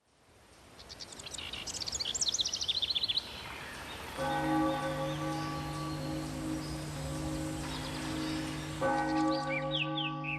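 A church bell tolls in steady, ringing strikes with long sustained hum, preceded by birds chirping and twittering outdoors, with more birdsong returning near the end.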